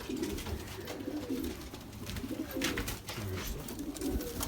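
Cimperi pigeons coo softly and repeatedly in low, throaty phrases, with a steady hum of background noise throughout.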